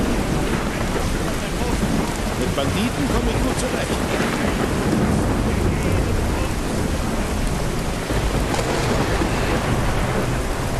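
A thunderstorm in Skyrim VR, with heavy rain pouring steadily and thunder rumbling throughout, loud and close, while someone talks over it.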